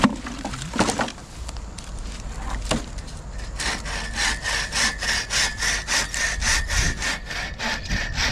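Hand saw cutting through wood, starting with a few scrapes and knocks before settling into a fast, even back-and-forth rhythm of rasping strokes, close and clear.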